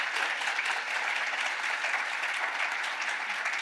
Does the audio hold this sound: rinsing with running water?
no